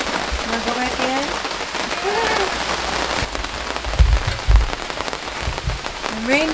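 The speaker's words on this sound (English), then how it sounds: "Yeah, it started raining, didn't it?" Rain begins to fall at an outdoor building site by a solar shed under construction, a steady patter with a few louder low thumps midway while people talk over it.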